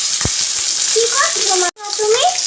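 Fish frying in a wok, a loud continuous sizzle and crackle with a brief cut near the end, with faint voices underneath.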